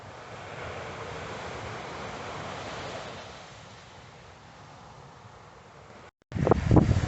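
Sea waves break and wash on the shore at Walcott at night, heard from a campervan parked about 50 yards from the water. A steady, broad surf roar with wind fades slightly, then stops abruptly before a short burst of louder, different noise.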